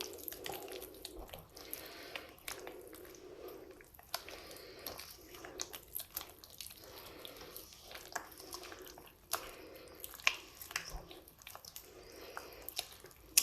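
Thick baghrir (semolina crêpe) batter being stirred with added warm water, giving soft wet squishing and dripping sounds in a steady uneven rhythm, close and fairly quiet, with no talking.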